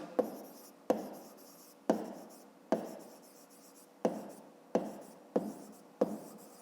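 Pen writing on paper during a fifth-grade math exercise: eight separate crisp scratching strokes, each a short attack that fades, spaced roughly evenly, close and quiet, with no talk over them.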